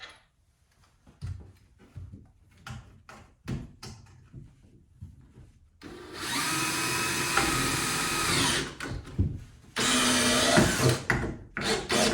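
Scattered knocks and handling noises give way to a loud, steady power drill whirring in two long bursts close by, drilling into a wall with metal studs.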